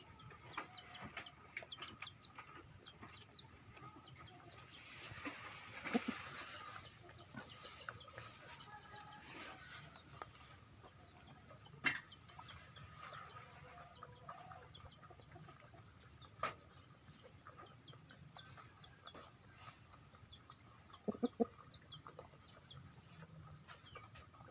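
A hen brooding on eggs among other chickens gives off soft, low clucks and murmurs in a quiet setting, with a few louder clucks and faint bird calls scattered over the length.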